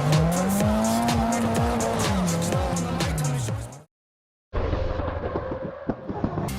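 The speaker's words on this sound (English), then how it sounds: "The engine sounds are satisfying, and the tire screeches while drifting really add to the experience." Screeching tires and a revving engine from the drift racing game CarX Drift Racing 3, loud and continuous with rising and falling pitch, cut by a brief silence before the engine roar and skidding resume.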